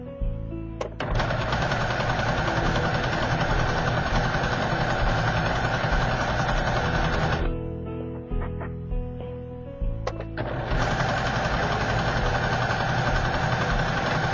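A sewing machine runs a stretched lettuce-edge hem in fast, steady whirring bursts, stopping briefly midway for repositioning before starting again at full speed, close and loud without talk.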